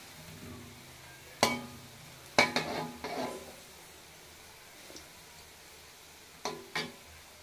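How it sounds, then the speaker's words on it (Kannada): Chicken bonda fritters fry in hot oil, a faint steady sizzle broken by a few sharp clinks and stirring scrapes of a utensil against the pan, with no voices. "ಇದು 2 ರಿಂದ 3 ನಿಮಿಷ ಫ್ರೈ ಮಾಡಿದ್ರೆ ಸಾಕು"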